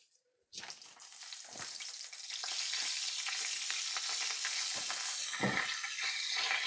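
Seafood mushrooms coated in cornmeal fish-fry batter drop into hot oil after a brief quiet start, bursting into a loud, crackling sizzle that steadily builds and stays dense to the end.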